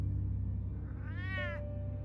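A cat lets out a single clear, rising-and-falling meow over a steady low background hum, close and fairly loud.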